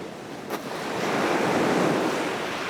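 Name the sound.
ocean waves breaking on the shore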